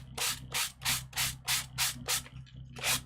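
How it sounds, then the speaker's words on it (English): Rhythmic scratchy rubbing, about eight steady back-and-forth strokes of a sanding block over embossed two-tone cardstock, close and clear over a faint low hum. "you take this, your little sanding block, and you run it over"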